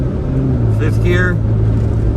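A Jeep JK cruises in fifth gear with a loud, steady low engine and road drone throughout, and a voice talks briefly over it.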